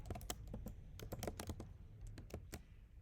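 Someone types a word on a computer keyboard, a close run of crisp, irregular key taps over a quiet background, with no voice.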